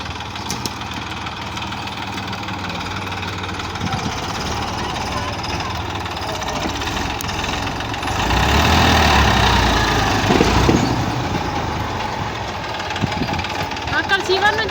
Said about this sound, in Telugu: ఒక ట్రాక్టర్ వస్తుంది